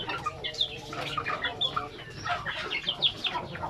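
Native chickens cluck and chirp in a group, overlapping busy calls of varying pitch, fairly close and continuous, with faint farm background and a little rustling.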